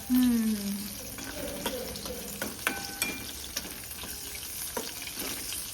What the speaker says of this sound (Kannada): ಎಣ್ಣೆ ಒಳಗೆ ಮೆಣಸಿನ್ಕಾಯಿ ಚಂದ ಕಳಿಸ್ಕೊಂಡ್ರೆ